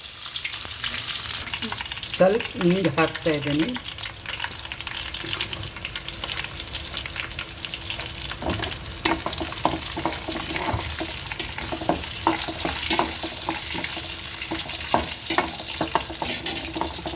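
Curry leaves and green chillies crackle and sizzle in hot tempering oil with cumin, a continuous frying hiss with sharp pops, plus a few stirring scrapes and a brief voice.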